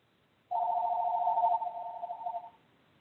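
A telephone rings during a spiritual group call, one steady two-second electronic ring burst, fairly loud and close, with no talking over it.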